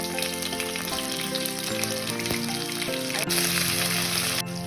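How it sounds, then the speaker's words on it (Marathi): Cumin, mustard seeds and chilli sizzle and crackle in hot oil for upma, a steady close frying hiss with scattered popping spits. "आता आपण जिरा आणि राई टाकू याच्यामध्ये. त्याच्यामध्ये टाकू मिरची."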